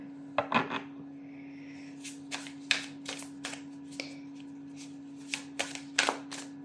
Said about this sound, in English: just going to give it a good shuffle